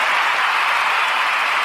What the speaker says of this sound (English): Let this crowd calm down.